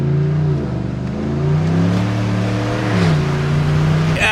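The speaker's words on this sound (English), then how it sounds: "Look, blowing tires, I'll do that." Car engine revving hard with rising and falling pitch as the tires spin on a wet dirt road, loud and close, with a brief high hiss near the end.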